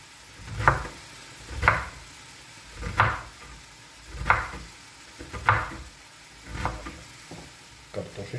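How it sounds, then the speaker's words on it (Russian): Knife shredding cabbage on a board for Crimean-style borscht, seven evenly spaced, distinct chopping strokes about a second apart, close and fairly quiet against a soft kitchen background with no talk. "Берем капусту и начинаем ее шинковать."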